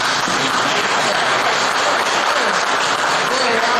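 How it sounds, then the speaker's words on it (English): An audience breaks into loud, sustained applause, a thick wash of many clapping hands with voices mixed in underneath. "And they all clap for it."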